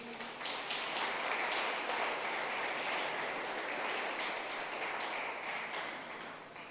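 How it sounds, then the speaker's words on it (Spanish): Congregation-style audience applause at a church gathering, a steady stream of many hands clapping that rises quickly, holds for several seconds, then eases off slightly, heard fairly quietly as if from a distance. "dale un fuerte aplauso a Jesús."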